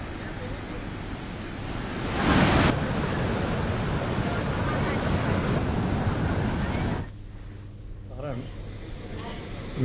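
A river swollen by heavy rain rushes in a broad, steady roar that stays continuous and loud, then drops lower near the end.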